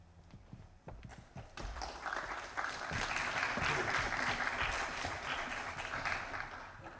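Applause from an audience after a conference presentation at a 2011 metaverse event, starting thin with a few claps and swelling into full, sustained clapping that holds to the end.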